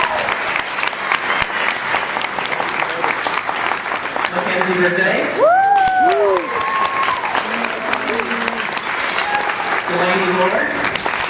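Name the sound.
audience applause for featured student authors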